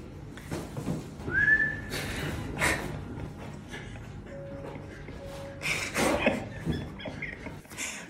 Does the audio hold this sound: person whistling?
yes